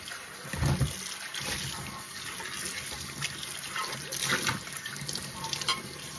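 Running water splashes into a home sink while something is washed by hand, a steady, moderately quiet flow with small bumps and clatters and no voices.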